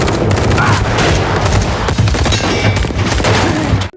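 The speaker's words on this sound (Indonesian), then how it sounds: "Terjadi baku tembak dengan tim 58." Gunfight in a film, a dense burst of rapid gunshots and automatic fire crackling loudly in close succession, with booming impacts throughout.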